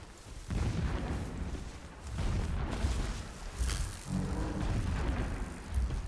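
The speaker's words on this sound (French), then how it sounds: "Des explosions au loin." Distant explosions in the video game Horizon, a series of muffled low booms and rumbles spread across the scene with no talking.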